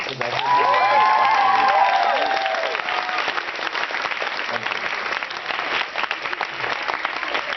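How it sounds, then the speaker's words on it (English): An audience at a Scholastic event celebrating Harry's birthday gives Kazu a round of applause, with steady dense clapping and some cheering and crowd noise throughout. "one last round of applause for Kazu"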